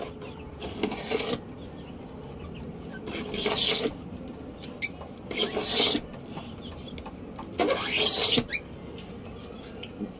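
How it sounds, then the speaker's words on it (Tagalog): A knife blade scoring a 5mm thick acrylic sheet in four separate bursts of close, raspy scraping, each lasting under a second, with quiet pauses between strokes. "Ordinary cutter biting the acrylic."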